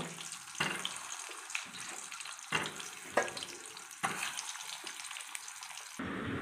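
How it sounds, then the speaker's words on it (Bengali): Pointed gourd (potol) pieces frying in oil in a kadai, a steady hiss of sizzling broken by several sharp crackling bursts as pieces are dropped in, close and alone without talk. "এখন আমি কড়াইয়ে একটা তেল নিয়েছি, পটলগুলো আমি তেলের মধ্যে দিয়ে দিচ্ছি, হালকা ভেজে তুলে নেব"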